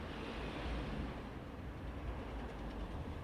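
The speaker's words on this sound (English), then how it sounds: "I don't know what that noise is. I guess it's the wind." Wind rushing past a train in Train Sim World 2 on the Cane Creek line near Moab, a dense broadband roar mixed with low rumble, steady and loud throughout.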